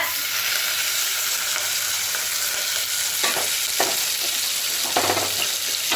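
Shallots, green chilies and curry leaves fry in hot oil with a steady close sizzle, broken by a few brief scraping stirs, no talking.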